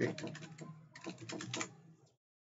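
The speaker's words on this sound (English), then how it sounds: "I keep typing" Continuous typing on a computer keyboard, a quick run of close, crisp key clicks with a brief pause partway through, then ending abruptly.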